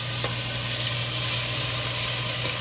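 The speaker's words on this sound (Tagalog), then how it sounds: "gigisahin mo na siya kung ano bago natin lalagay yung bawang, sibuyas, luya" Onion and ginger sautéing in a pan give a steady, close sizzle with a constant low hum underneath, no voices, across a short stretch.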